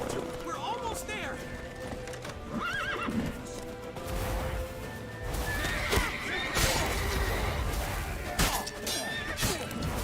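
A horse whinnies several times amid busy sounds in the video game The Witcher 3, with hooves clip-clopping and voices talking over the mix.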